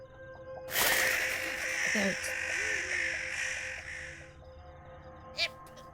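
Crows caw in the video game Noel the Mortal Fate, a loud, harsh burst of overlapping calls lasting a few seconds before fading, followed by a brief sharp click.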